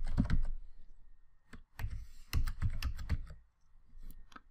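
Keys clatter on a computer keyboard as a chown command is typed, with quick irregular bursts of close, crisp keystrokes separated by short pauses.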